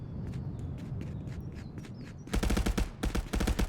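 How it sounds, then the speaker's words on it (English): Rapid bursts of automatic gunfire in the battle royale shooter Apex Legends erupt over footsteps in a competitive finals match, dense repeated shots in two quick volleys, fairly close and loud, with no talk. "We can hear some gunshots going off on the point."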